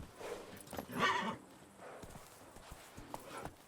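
Horse hooves clip-clopping at a gallop in The Witcher 3 video game, with a whinny partway through; the steady hoofbeats carry over game ambience and no one speaks.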